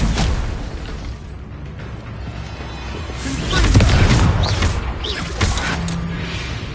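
Confringo fire spell from the video game Hogwarts Legacy going off in a loud fiery burst and boom, amid continuous combat noise, with game voices talking over it.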